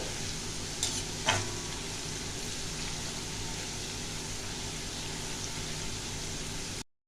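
Shredded potatoes for jhuri aloo bhaja fry in a pan with a steady, even hiss, broken near the start by a couple of brief scraping stirs; the sizzle stays close and constant, with no talking.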